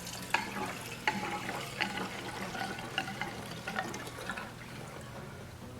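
Gasoline pours into the simple carburetor of an old engine, a steady liquid gurgle and splash with small irregular glugs, close and continuous without talk.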